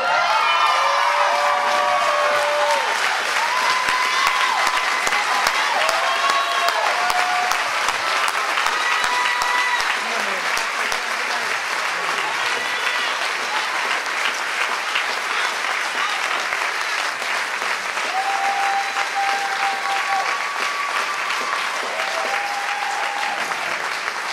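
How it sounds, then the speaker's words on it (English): Sustained applause from a gala audience, loud and continuous across the whole stretch, with scattered cheers and whoops and a few raised voices rising above the clapping. "Clap your hands much better than that."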